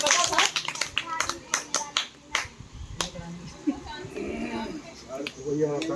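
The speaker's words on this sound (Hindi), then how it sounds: "ताली हो जाए एक बार तुम लोगों के लिए।" A handful of people clap for children at a Paryushan festival quiz competition, a short burst of sharp, uneven claps that quickly fade into talking voices.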